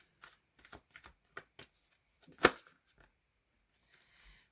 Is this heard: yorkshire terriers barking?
no